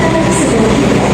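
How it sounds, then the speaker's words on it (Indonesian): The Wijaya Kusuma passenger train arrives at Jember station with a loud, steady rumble and roar of rolling carriages close at hand, with no voices over it. "Kereta api Wijaya Kusuma telah tiba di stasiun Jember"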